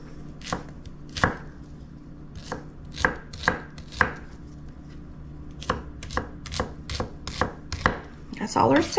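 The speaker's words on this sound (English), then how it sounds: "And then you just chop it." A knife chops food on a board in a steady series of crisp, close knocks with brief pauses, no talk over it.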